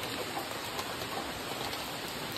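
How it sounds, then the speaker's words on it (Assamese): Steady rain hiss across the whole clip in Meghalaya, dense and even, with a faint bird cooing somewhere in the background. "এটা পৰিস্থিতি হল এইটো গোটাই জগতত দি আছে বৰষুণ"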